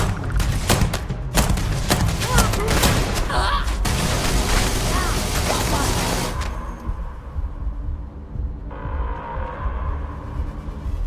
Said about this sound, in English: EM fire, Captain!